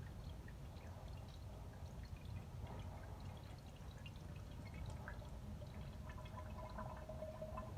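Fork oil pours into the fork tube of a 2005 Suzuki GS500 during a rebuild, a faint, steady trickle and gurgle rising slightly in pitch as the tube fills.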